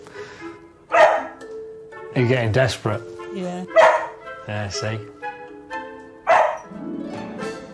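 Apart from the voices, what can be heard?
dog barking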